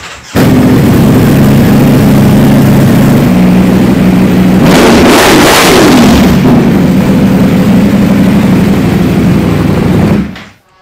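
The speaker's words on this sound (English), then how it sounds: "It's going to be a cold start." A big motorcycle engine on a cold start roars loudly and close, idling high and steady with a sharp rev swell midway before cutting off after about ten seconds.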